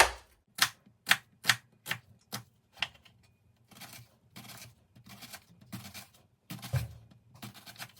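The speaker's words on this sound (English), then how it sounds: "I like to slice this, dice this as small as I can feasibly by hand" A knife dices red onion by hand on a cutting board, with sharp distinct chops in a quick uneven rhythm at first, then softer bursts of rapid cutting, close and fairly quiet.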